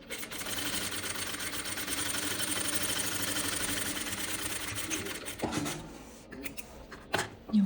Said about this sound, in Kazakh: Сол үшін асықпай әдемілеп тігіп шығамыз.